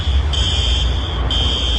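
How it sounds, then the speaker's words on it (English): A fire alarm at a recording studio in Silver Lake sounds a loud, piercing electronic tone in two long blasts with a brief gap, over a constant low rumble. "This is them playing the fire alarm in Silver Lake."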